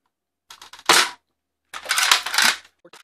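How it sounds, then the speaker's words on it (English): An X-Shot Pro Series toy blaster fires ghost half darts in a short burst of sharp snapping shots, a few quick pops then a longer run of rapid shots, loud and close. "Then I am going to shoot 15 of those new X-shot dart"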